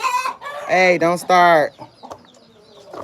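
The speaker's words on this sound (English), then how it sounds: "I just got unafraid of the chickens" Chickens cluck and a rooster crows loudly up close in a backyard coop, sharp harmonic calls in quick bursts, while a person speaks briefly over them.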